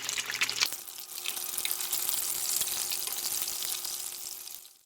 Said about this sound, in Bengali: এইভাবে 4 সাইড উল্টিয়ে ভেজে নিতে হবে